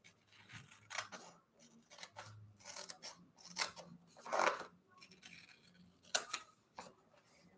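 Scissors cutting paper planner stickers, a quiet close series of irregular snips and crisp paper rustles with brief pauses between cuts.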